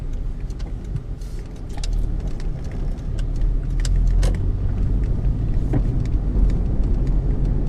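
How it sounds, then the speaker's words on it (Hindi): Interior of a 2002 Honda Civic being driven, with a steady low engine and road rumble that builds slightly and holds, plus faint rattles and clicks in the cabin. "आज बहुत अरसे के बाद मैं ये वाली गाड़ी चला रहा हूँ"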